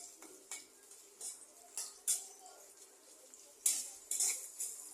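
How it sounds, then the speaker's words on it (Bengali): Spice paste frying in oil with chopped onion in a pan, stirred with a metal utensil that gives irregular scraping and clinking strokes against the pan over a faint sizzle. "পেস্টটা একটু নাড়াচাড়া না দিলে পেস্টটা হয় না"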